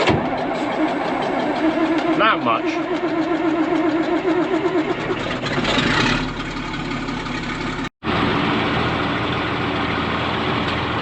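A large tractor engine, started with a little ether, cranks over, catches and settles into a steady rumbling idle nearby on a farm in January. The sound cuts out briefly, and a voice speaks a few words.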